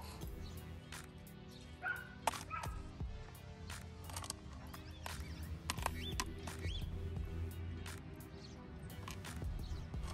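Scattered, faint yaps from a young dog come and go over a constant low rumble, with occasional soft clicks and knocks nearby.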